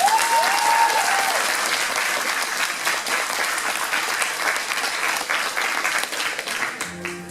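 Sustained audience applause at a cosplay show in Dijon, a dense wash of clapping hands throughout that fades slightly near the end, with a brief tonal sweep early on.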